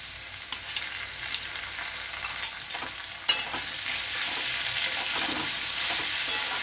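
Ginger and chili paste fries in a pan with a close, steady sizzle and scraping stir strokes, turning louder and fuller partway through.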